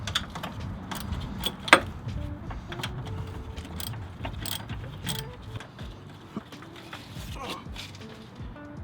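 Ratcheting 10mm wrench loosening a screw on the brakes of a C6 Corvette Grand Sport, heard as close, repeated metallic clicks and small mechanical clatter with one sharp clank, over low garage noise.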